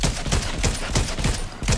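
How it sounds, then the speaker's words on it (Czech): Gunfire in a Fortnite match: rapid, loud bursts of shots rattle in quick succession, close and punchy, with no voices over them. "Někdo se střílí."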